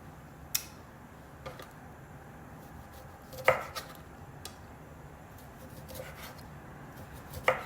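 Sparse knife cuts thinly slicing a lemon on a board for an upside-down lemon cake, a handful of sharp isolated taps spaced irregularly over quiet room noise, nearby and fairly soft.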